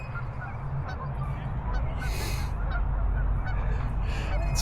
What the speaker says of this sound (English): Bunch of little geese here.